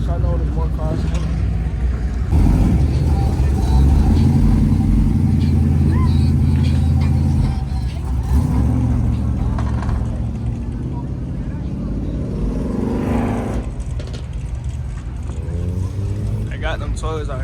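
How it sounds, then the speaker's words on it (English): Cars rolling past at a street meet of supercars and Mopar muscle cars in Atlanta, engines rumbling loud and close, with people talking and shouting over the traffic. "there's more cars coming"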